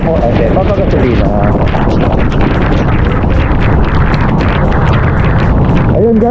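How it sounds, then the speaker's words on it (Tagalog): Strong typhoon wind roars steadily into the microphone on a flooded street, a loud constant buffeting with someone talking over it near the end. "Oh, lakas ng hangin."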